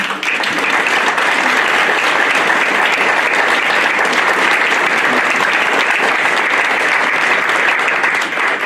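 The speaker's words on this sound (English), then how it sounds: "I think these candidates deserve that applause and more" Sustained, loud applause from a forum audience for local election candidates, dense steady clapping filling the room without pause for nearly nine seconds.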